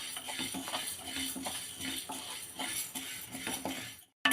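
Urad dal and chana dal being dry-roasted in a pan, heard as a soft, steady rattle and scrape of lentils stirred with a utensil in a regular rhythm, quiet and close, with no talk.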